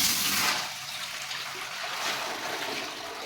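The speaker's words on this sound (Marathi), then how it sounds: "हे एक पातेलं भरून पाणी घातलं आहे" Water gushes and streams continuously into a large pot on a stove, a full, rushing pour heard up close with no voices.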